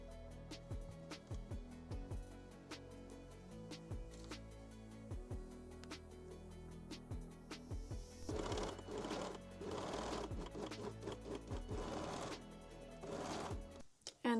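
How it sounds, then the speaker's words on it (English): A sewing machine stitches a side seam of a thong, with rapid needle bursts in short runs and brief pauses, then a denser sustained whir of stitching, close and fairly quiet. "Then pin and sew the second side seam."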